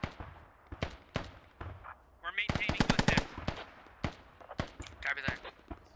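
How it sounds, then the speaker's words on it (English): Automatic weapon fire in the military shooter Squad during a Russian versus British battle, with rapid bursts and single shots rattling at varying distances and a dense volley in the middle. "He's got some cover fire from down below."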